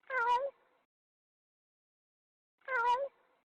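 Two distinct cat meows about two seconds apart, each short and clear, from a cat in an Ace Attorney fangame, with silence between them.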